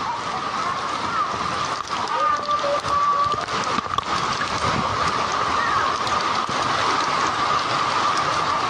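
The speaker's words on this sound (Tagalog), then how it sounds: "Pag nagpatuloy pa ang ulan nito, ay sigurado yan." Heavy rain pours down during a flood, a dense continuous hiss with faint voices briefly audible beneath the downpour.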